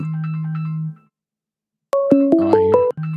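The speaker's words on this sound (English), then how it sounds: "Oh, I hear the ringing." A phone rings for an incoming call with a loud, close electronic ringtone: a steady tone, a short silence, then a rising melodic burst of chimes before the steady tone returns.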